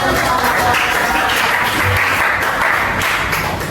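Students in a chemistry class clap together after a group finishes its project presentation, a brief steady burst of many hands filling the room at close range.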